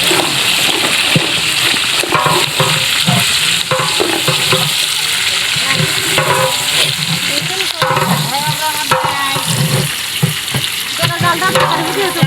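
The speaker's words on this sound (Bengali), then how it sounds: "পেঁয়াজগুলো লাল লাল করে ভাজি করা হয়ে গেছে" Loud, steady sizzling of onions frying in hot oil, with repeated stirring and scraping in the pan throughout.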